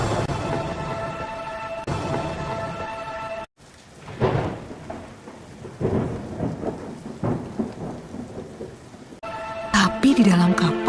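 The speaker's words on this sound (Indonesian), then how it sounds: "Hujan turun sangat deras, sampai air menutupi ladang-ladang." Heavy downpour and rolling thunder sound effect for a flood scene, loud and steady, with a sharp break partway through and crashing thunder returning near the end.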